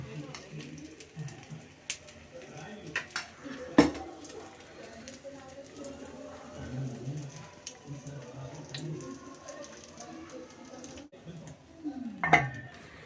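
A lid clinks onto a pan of fluffy omelette with a couple of sharp metallic knocks among scattered utensil rattles while a person talks.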